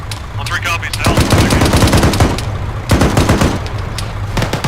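Rapid automatic gunfire from a squad's weapon in the Arma 3 military game: loud, close bursts of machine-gun fire, with a short pause before another burst, and voices talking over the shooting.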